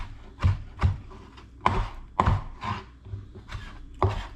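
A knife chops sliced pepperoni on a cutting board for a salad, giving about eight sharp, evenly spaced thuds, close and clear with no talk.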